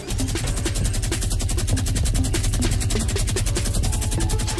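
Sustained rapid automatic gunfire from a Fortnite match, loud and continuous with a dense, steady rattle of shots throughout and no talking.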